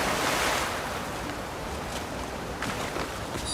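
A waterfall in the video game Crimson Desert rushes with a steady broadband roar, continuous and fairly close, with no speech.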